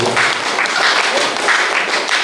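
A short burst of clapping from an audience at a Jain temple anniversary assembly, dense and fairly close, with murmured voices mixed in.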